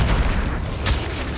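A Flipendo spell fires in the video game Hogwarts Legacy as a short burst of booming, crackling impact about a second long, loud and alone.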